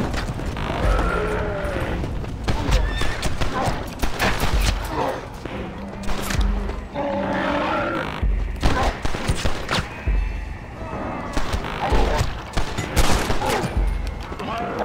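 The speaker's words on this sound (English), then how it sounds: "Dude, you're shooting me now." Western shootout in the PC game Red Dead Redemption near a barn: dense bursts of gunfire crack repeatedly in quick volleys, loud and close, with game voices and a player talking over the shots.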